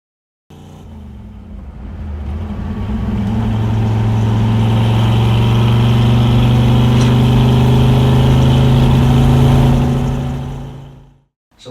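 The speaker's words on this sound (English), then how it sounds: "If you've ever wanted to go on a test drive in a 65 Shelby GT350, buckle up and hang on" Engine of a 1965 Shelby GT350 on a test drive: a loud, close, steady mid-pitched roar that swells as the car pulls away and holds for several seconds before cutting off abruptly, with no voices.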